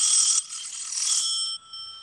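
A telephone rings in a live radio play of The Maltese Falcon: a bright, continuous metallic bell trill, loud and close, shifting slightly in tone before cutting off, with no voices.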